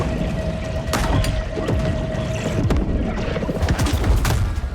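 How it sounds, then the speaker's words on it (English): Torpedoes fired at a shark in the video game Maneater, heard as a chaotic run of booms and blasts with sharp impacts scattered over a constant rumbling underwater din. "He shoots torpedoes at us."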